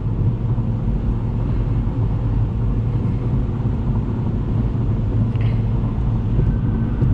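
A 2020 Mini John Cooper Works Hardtop drives with a steady, close cabin rumble of engine and road noise, loud and unbroken, with no speech.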